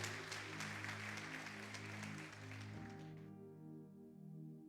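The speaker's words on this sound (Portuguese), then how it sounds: "Você pode aplaudir o Senhor? Vamos lá, faça isso com alegria." A church congregation claps together, a dense patter of hands over sustained organ or keyboard chords, which fade and leave the held music ringing at the end.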